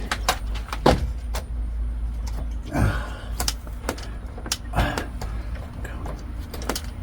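A car door is unlatched and opened, giving a few sharp clicks and a clunk against a steady low engine rumble and some rattling.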